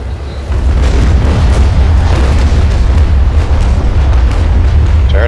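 Heavy naval cannon fire from ships in the video game Naval Action: a dense, continuous booming rumble that rises after a brief quieter start and stays loud throughout.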